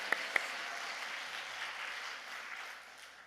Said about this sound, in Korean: 박수로 할렐루야 환영하겠습니다.